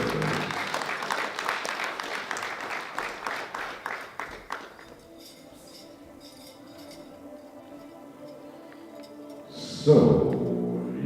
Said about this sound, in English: Round of applause for Lewis.